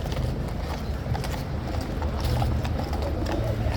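Metropolitan Police horses clip-clop on the road at Hyde Park Corner in London on Armistice Day, a steady run of hoofbeats close by amid the dense murmur of a large crowd.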